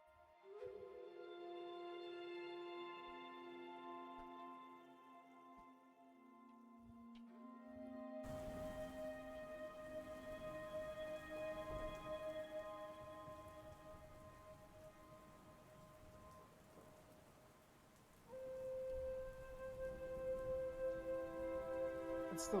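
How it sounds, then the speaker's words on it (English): Rain patters steadily on the top of a tent, a continuous soft hiss of drops that runs under sustained musical tones with no one speaking. "you can hear the rain hitting the top and kind of running its way down"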